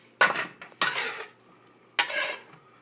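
Chicken larb with green onion tossed in a pan, three quick scraping, clattering strokes of utensil against the pan, close and distinct, separated by short quiet gaps.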